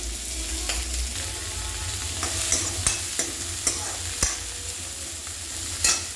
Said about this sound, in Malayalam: എന്നിട്ട് ഈ ഉള്ളിയും പച്ചമുളകും വറ്റൽമുളകും എല്ലാം കൂടെ ഇട്ട് ഒന്ന് വഴറ്റിയെടുക്കണം.